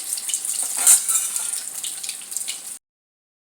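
Egg appam fries in hot oil with a bright, steady sizzle and a few crackling pops, close and fairly loud, heard alone before it cuts off abruptly near the end.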